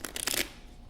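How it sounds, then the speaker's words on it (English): A deck of playing cards gets a quick riffle shuffle, a brief burst of fluttering card snaps for under half a second, then near silence. "put the card back in the deck, and then give them a quick shuffle"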